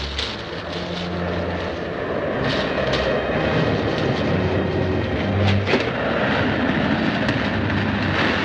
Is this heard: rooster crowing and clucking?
no